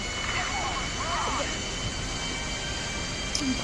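A damaged airplane engine in GTA V at an airport, a steady droning roar held at an even level throughout, with a faint voice speaking briefly over it.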